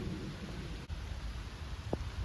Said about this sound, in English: hopefully the rain will stop